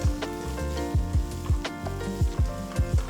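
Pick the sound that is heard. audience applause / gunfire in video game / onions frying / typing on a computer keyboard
onions frying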